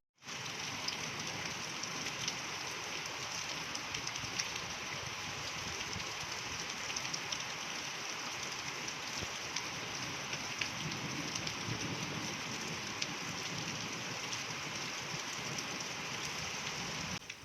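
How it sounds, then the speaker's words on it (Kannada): Sudden rain falls steadily in a home setting, a continuous even hiss of drops on surfaces holding at a constant level throughout without pauses or talk. "ಇದ್ದಕ್ಕಿದ್ದಂಗೆ ಮಳೆ ಬರ್ತಾಯಿದೆ."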